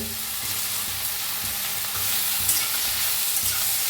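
Onion, tomato, garlic and cashews frying in oil in a pan for a dhaba-style paneer aloo masala, a loud close sizzle punctuated by rhythmic scraping stirs, no voices.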